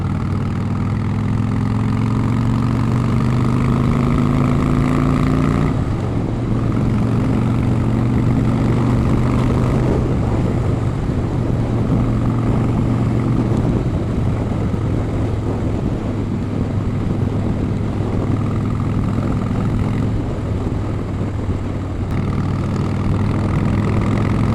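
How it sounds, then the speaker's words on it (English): A Harley-Davidson Fatboy V-twin, about fifteen years old and in like-new condition, idles steadily with a low, loping engine rumble that stays loud and close throughout, with a slight shift in tone partway through and no talking. "You can't beat that V-twin sound though."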